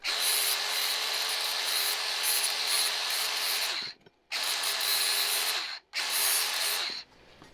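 Metal being cut for a Suzuki Jimny flat tow bracket makes a loud, harsh, steady grinding whine close up, broken by two short pauses before it stops.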